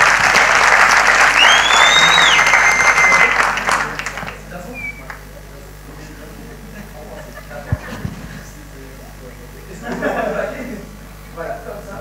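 Loud applause from an audience at a contest fills the first few seconds, then fades into a quieter room with scattered sounds and a low hum.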